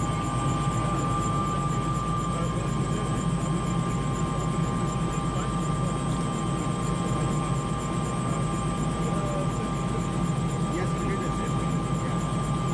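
A helicopter in flight over Victoria Falls, its engine and rotor making a steady, loud drone with a constant hum, unchanging from start to finish, heard from inside the cabin.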